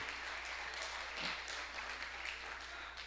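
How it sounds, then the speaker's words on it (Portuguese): A church congregation claps in praise during a bishop's sermon, a steady, dense wash of applause held at an even level throughout, with a faint voice briefly rising underneath. "Aplauda ao Senhor"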